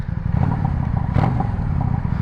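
The exhaust of a 1998 Yamaha V Star 650 motorcycle runs close and loud: a deep, pulsing low rumble with a quick rough flare near the middle, and no talking.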